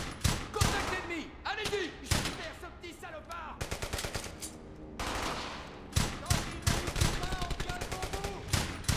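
Rapid bursts of machine-gun and rifle fire in the World War II shooter Brothers in Arms: Hell's Highway, loud and close, with repeated volleys and staccato rattles, mixed with voices talking over the gunfire.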